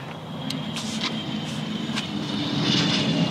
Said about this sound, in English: The jet just landed.